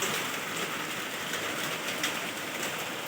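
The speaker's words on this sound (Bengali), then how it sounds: "বৃষ্টির তখনও পড়ছে দেখুন কতটা জল হয়েছে পুরো আমার ঘরের সামনে" Steady, dense rain hissing continuously on surfaces outside a house, with water pooling in front, no gaps and no voices.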